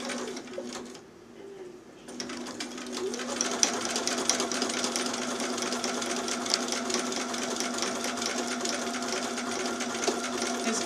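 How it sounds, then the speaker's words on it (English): A sewing machine running a zigzag stitch along the edge of a fabric seed catcher for a bird cage, a steady close mechanical whir with rapid rhythmic needle clatter, starting after a brief stop and a few short bursts, while pigeons coo faintly in the background. "I'm still going to use a zigzag stitch on here."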